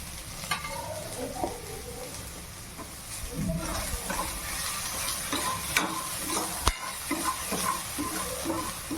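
Capsicum sizzling and frying in a pan with ginger garlic paste, a steady close hiss broken by repeated scraping stirs, with no talking.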